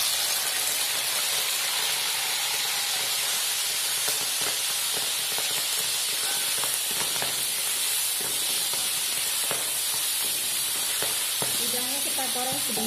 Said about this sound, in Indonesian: Udangnya kita goreng sebentar saja ya,